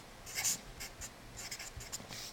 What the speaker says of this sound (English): I suppose we'll write in the whole top line first.